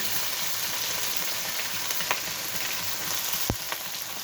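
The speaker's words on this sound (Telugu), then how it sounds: "పెద్ద ఉల్లిపాయలు వేస్తున్నాను పచ్చిమిర్చి" Onions and green chillies frying in a pan, a close, steady sizzle and crackle that runs throughout, with a few sharper pops and a brief clatter near the end.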